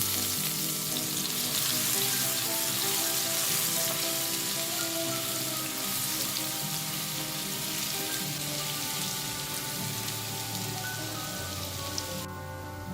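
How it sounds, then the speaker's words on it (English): Chopped garlic fries in oil over low heat with a steady, dense sizzle. The crackle and spit run continuously up close, with a faint hum of the stove underneath. "The chopped garlic goes in to be fried."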